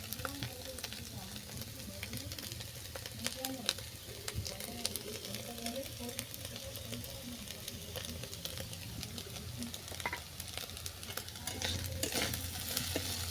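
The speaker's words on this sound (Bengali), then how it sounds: "মশলাটা ভালো করে মিশিয়ে নিলাম" Quiet sizzling with intermittent scraping and stirring strokes as biryani masala is mixed into puffed rice chow mein frying in a pan, steady and close, with no talking.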